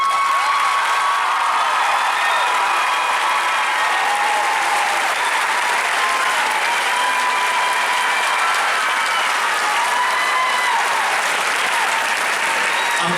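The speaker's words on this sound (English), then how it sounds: "a round of applause for Myron Spikes." Sustained applause from a large audience at a high school graduation ceremony, dense steady clapping throughout with faint crowd noise and a few cheers mixed in.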